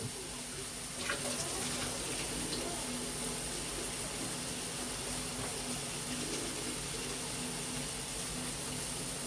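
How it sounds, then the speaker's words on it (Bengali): A small amount of water is poured into a cooking pan beside onions and tomatoes, a soft continuous splashing gush under faint kitchen background noise. "আর এটার মধ্যে আমি সামান্য জল দেব"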